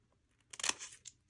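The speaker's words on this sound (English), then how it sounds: "And then I'm going to just create the fringe by cutting" Scissors snip through tissue paper while cutting fringe for a homemade piñata, a quick papery crunch of one or two close, quiet cuts in an otherwise silent room.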